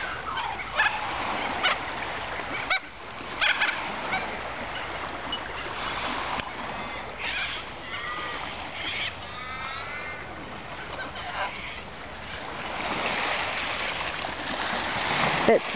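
Cockatoos screech in repeated harsh calls by the Swan River near Bicton Baths, mixed with gull cries over steady outdoor background noise.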